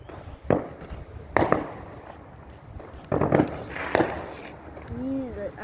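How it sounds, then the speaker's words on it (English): Fireworks bursting outdoors at night, several sharp bangs with crackle spread over a few seconds, separated by quieter gaps, with people talking throughout and a brief whistling tone near the end. "Oh, what was that firework?"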